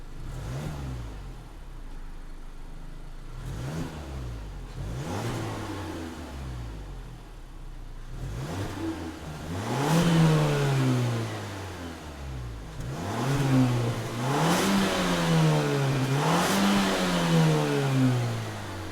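A 2021 Mazda 3 Turbo sedan engine starts, then revs repeatedly, each rev climbing and falling back, growing a little louder over time; no voices.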